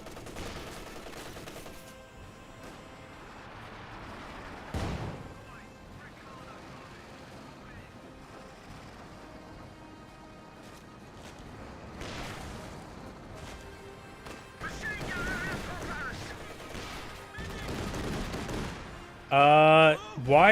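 Rapid bursts of incendiary-round gunfire in Company of Heroes 2, crackling in clusters around 5, 12 and 15–18 seconds within a busy battle soundscape, with a voice speaking over the action.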